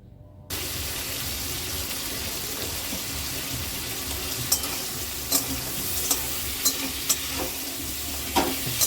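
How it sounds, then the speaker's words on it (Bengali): Whole cumin seeds dropped into hot oil, bursting into a sudden loud, close sizzle that carries on steadily with scattered sharp crackles and pops. "এরপর আমি তেলের মধ্যে সামান্য একটু গোটা জিরে ফোড়ন দিয়েছি"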